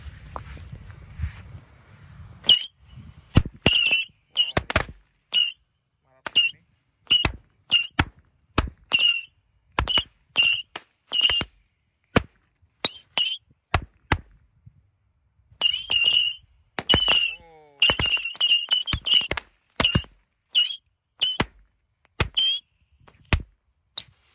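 A jumbo roman candle battery of 100 shots fires in a rapid irregular string of sharp pops and whistling bursts, loud and close, with brief pauses between clusters at a New Year's Eve celebration.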